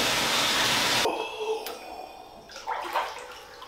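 Hot water gushes into a bathtub for an Epsom and pink salt bath, a loud steady rush that stops abruptly after about a second. Quieter clatter and faint voices follow.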